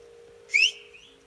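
A single short rising in-game whistle sounds over a quiet, steady electronic hum, brief and clear, then fades.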